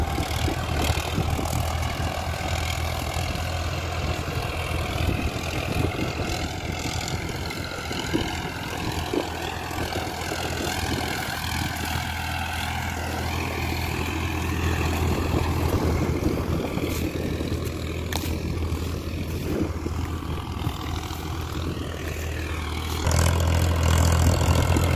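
A Farmtrac 60 Powermaxx tractor, a 2021 model in high-2 gear, runs its engine at 1700 RPM, a steady loud diesel drone that holds continuously throughout and swells slightly near the end.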